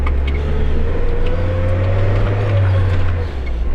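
A GAZelle van pulls away under load, its engine droning low and loud close by with a rising rev, steady throughout with some road noise.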